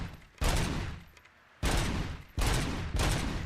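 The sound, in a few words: gunfire from a service weapon in video game RoboCop: Rogue City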